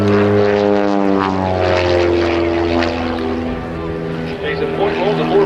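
An S1 Special aerobatic airplane performs at an airshow, its propeller engine roaring loud and close with sweeping pitch changes while an announcer talks over it.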